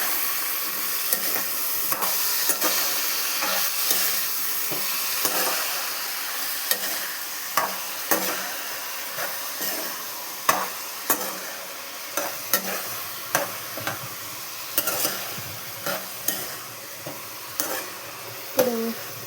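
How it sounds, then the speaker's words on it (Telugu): Brinjal and tomato curry is stirred in a pan, with a repeated, roughly rhythmic scrape and clack of the spoon over a low, continuous sizzle. The sound is close, and no one talks. "ఇప్పుడు మంచి కలుపుకోవాలి."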